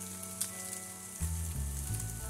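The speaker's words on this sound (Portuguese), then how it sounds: "eu deixei a carne dar uma cozidinha, agora ela tá fritando, né?" Beef sizzling as it fries in olive oil in a pan, cooking for bean sprouts with meat; a steady close sizzle runs throughout, with a bright crackle near the start.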